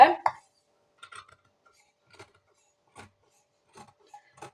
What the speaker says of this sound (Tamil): இப்போ சின்ன சின்ன கட் கொடுத்துடலாம்.